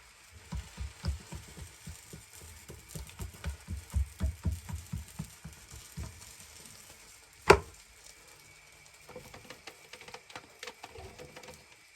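Malawi flatbread frying in a pan gives faint, low sizzling with soft scattered pops and a few tapping sounds, one sharp clack midway, all quiet and close.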